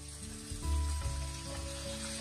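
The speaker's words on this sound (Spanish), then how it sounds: "en una vamos a empezar a sofreír toda nuestra verdura. Y en la otra quiero ir sofriendo la carne" Vegetables and meat sofrito-fry in two pans for an eggplant bolognese lasagna, a steady close sizzle with a brief louder surge of frying, no talk.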